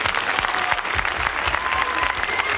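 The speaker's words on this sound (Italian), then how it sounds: "Prendete di questo applauso, poi potete sedervi." Audience applause at a musical stage performance presented by a music academy: dense, steady clapping from a sizable crowd that fills the whole stretch without pause.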